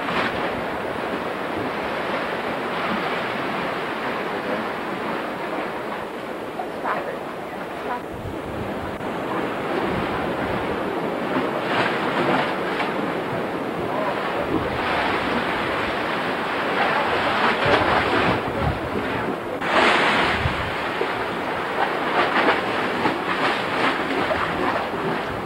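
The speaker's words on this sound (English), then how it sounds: "You can actually hear the roar of thunder when the waves crash up" Ocean waves crash and roar against the rocky coast of Acadia National Park, a continuous loud surge with heavier swells breaking midway and toward the end, mixed with gusty wind buffeting the microphone.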